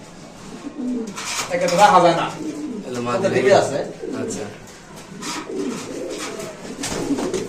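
Pigeons coo softly and repeatedly, close by, while people talk over them throughout.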